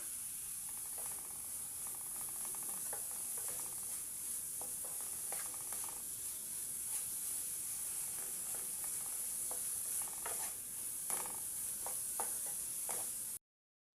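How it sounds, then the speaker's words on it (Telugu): A coconut laddu mixture with cardamom powder stirred in a pan, giving soft repeated scraping strokes over a steady faint hiss, quiet and close with no talking. "ఇప్పుడు ఎలకల పొడి వేసుకొని అంతా కలబెట్టండి"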